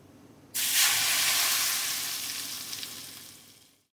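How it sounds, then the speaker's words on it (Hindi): Hot oil bursts into a loud, steady sizzle as spiced tempering hits onion and green chilli pickle, then gradually fades over a few seconds before cutting off. "बस हमारा तड़का तैयार है और इसे प्याज और मिर्च के अचार के ऊपर ऐड कर लेंगे"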